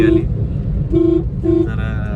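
Road traffic near Katraj tunnel in Pune, with car engines rumbling steadily close by and three short horn toots cutting through at regular intervals over the dense, continuous roadway noise.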